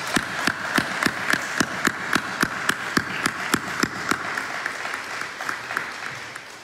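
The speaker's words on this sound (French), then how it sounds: "je suis très honoré de recevoir notre nouvelle conseillère départementale, madame Sandra Mille, que nous pouvons applaudir" Applause from council members at a municipal council meeting, a steady run of distinct claps from a modest group that thins out and fades toward the end.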